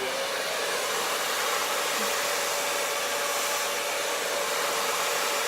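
A hair dryer blows with a constant, loud whooshing hum that stays steady the whole time, with no voices.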